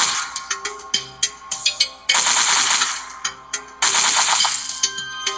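Gunfire in a zombie video game, loud close shots in quick single and clustered bursts with two longer, harsher sustained blasts and no talking.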